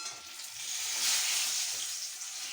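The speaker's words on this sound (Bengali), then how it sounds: "দেখো এদিকে একটু দেখাও বেগুন ভাজা হচ্ছে" Eggplant slices sizzle steadily in hot oil, a soft crackling hiss with no voices.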